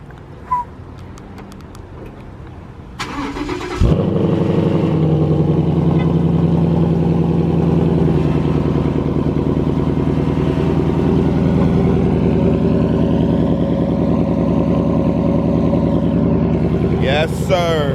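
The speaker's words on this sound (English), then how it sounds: "Let me hit y'all with the cold start real quick." A 2015 Ford Mustang GT cold-starts about four seconds in with a loud crank and catch, then settles into a steady, rumbling idle that runs close and continuous to the end.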